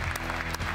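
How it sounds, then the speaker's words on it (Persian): A studio audience at a talent competition bursts into steady, dense applause for a contestant being called to the stage, loud and close, with many hands clapping continuously. "بله تشویق می‌کنیم که روی صحنه بیاد"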